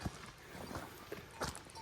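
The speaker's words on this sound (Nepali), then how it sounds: "गाई पनि बिचरा आगे हिँडिरहेछ बाटो पनि सानो रहेछ" Cow hooves sound faint and sparse as the animal carries a rider up a narrow path toward a waterfall near Kurseong, making a few soft, irregular steps with no talking.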